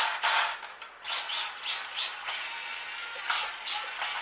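Axial SCX24 C10 RC crawler running with a thin, high whirring motor whine that surges and dips in short bursts, close by and fairly quiet, with no talking.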